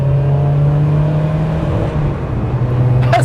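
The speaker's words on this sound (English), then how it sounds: "That's Gordon in his Alpine coming back from a meeting." Gordon Murray drives past in his Alpine car, a steady engine hum and tyre roar close by that holds throughout with a slight swell at the end.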